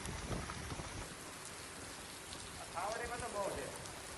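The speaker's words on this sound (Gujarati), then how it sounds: "ગીરના ગ્રામ્ય વિસ્તારમાં પણ ધોધમાર વરસાદ વરસ્યો" Heavy rain falls steadily in a village in the Gir area, a dense constant hiss of drops on surfaces, with a brief faint murmur partway through.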